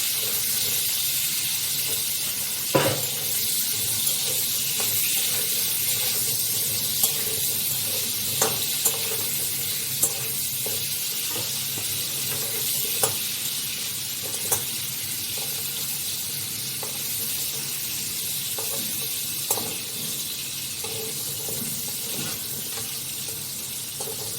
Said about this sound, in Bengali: এবার পেঁপেগুলোকে একটু নাড়িয়ে নেব।